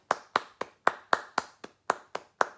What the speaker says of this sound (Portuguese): fazer a nossa tradicional e anual salva de palmas